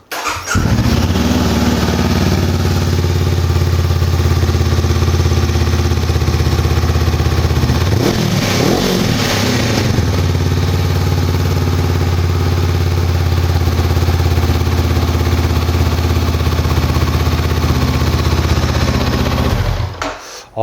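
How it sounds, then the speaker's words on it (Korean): A Honda CBR500R twin-cylinder motorcycle with an Akrapovič slip-on exhaust idles with a deep, steady burble, rises in a short rev midway, then settles back to idle before cutting off. "머플러 배기음 들어보시면 그렇게 크지 않으면서 딱 좋은 배기음 소리를 가지고"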